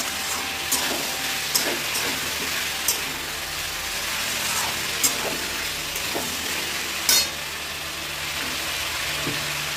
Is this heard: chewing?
no